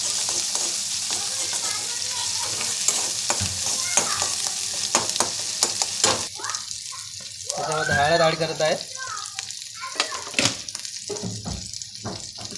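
Spoon stirring and mixing ingredients with oil in a hot frying pan, steady sizzle with scraping strokes and brief clatter, close and moderately loud, with a voice speaking briefly over it.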